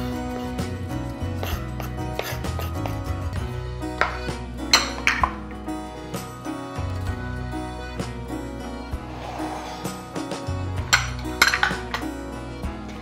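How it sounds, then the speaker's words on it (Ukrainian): Chopped greens drop into a bowl of Shopska salad with scattered clinks and taps of a utensil against the dish, a series of light, close knocks with no talk. "Відправляємо зелень до салату."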